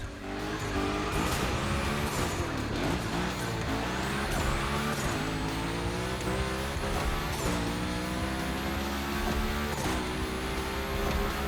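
A car sliding through a Gymkhana course in the racing game The Crew Motorfest: a loud, sustained engine roar that rises and falls with gear changes, with tire squeals over it and no talk.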